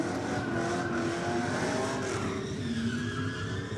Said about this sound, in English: That ute's got a different sound to it.